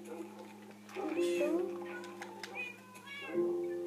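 A cat meows in a Minecraft game, a few short game-style mews repeated across the stretch over a steady low background hum, with light speech-like sounds mixed in.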